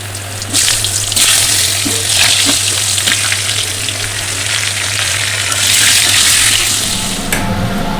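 Loud, vigorous sizzling of potatoes frying in hot oil, a dense hissing crackle that swells and eases, with occasional scraping stirs.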